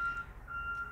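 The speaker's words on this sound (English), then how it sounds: "Got a trash truck backing up in case you wonder what that beep beep beep is." Two high, steady electronic beeps from a reversing trash truck, sounding at a distance over low background rumble.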